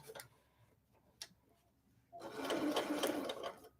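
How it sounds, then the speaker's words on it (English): A domestic sewing machine stitching through fabric, with a few soft ticks and taps from handling the material before a loud, steady burst of rapid mechanical stitching in the final second and a half. "I'm going to take about 2 stitches into the fabric, needle down so it's holding my fabric"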